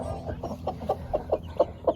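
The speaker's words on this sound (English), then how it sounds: "Chickens." Chickens clucking close by, a run of about eight short, rhythmic clucks building slightly in loudness over two seconds, with soft background murmur.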